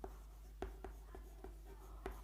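Marker or chalk writing on a classroom board, a series of short taps and strokes in an irregular rhythm, close and quiet over a faint hum.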